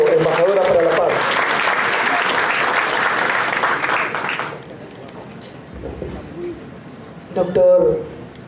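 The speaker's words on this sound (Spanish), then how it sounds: "Recibamos con fuertes palmas a la doctora Teresa Otiniano Castillo, embajadora para la paz" An audience at a human rights forum gives loud, sustained applause for about four and a half seconds to welcome an ambassador for peace, then it fades and a speaker's voice continues.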